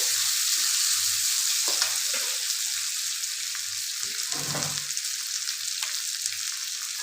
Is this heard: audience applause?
no